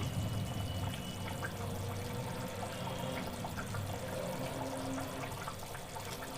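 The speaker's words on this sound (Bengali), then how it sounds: "এবার একে একে দিয়ে দিব বাকি যে দুধটা রেখেছিলাম সেটা" Milk poured into a pot of simmering elephant foot yam and shrimp curry, a steady continuous liquid pour with cooking noise underneath, close and moderately loud throughout.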